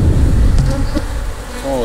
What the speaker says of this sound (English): A lid full of bees